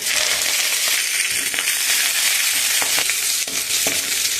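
Steady loud sizzling of fenugreek leaves, chillies and onion frying in hot oil with mustard seeds, with a few scattered crackles and pops throughout.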